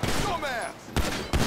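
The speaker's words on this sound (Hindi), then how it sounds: "अबे यार ये तो बिना बात की गोली चलाने लगे" Rapid bursts of gunfire in a GTA 5 game session, loud and close, with sharp volleys recurring in separate clusters over a continuous noisy background.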